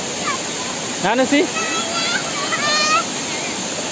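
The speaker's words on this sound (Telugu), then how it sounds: "చూసారు కదా వాటర్ఫాల్స్." Soochipara waterfall in Wayanad, Kerala, pours out a steady, even rush of falling water that runs unbroken throughout, with voices talking over it.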